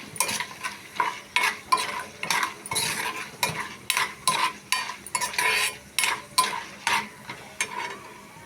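Curry leaves tossed into spices roasting golden in a pan, steady rhythmic stirring scrapes about twice a second under a light sizzle, close and fairly loud, no talk.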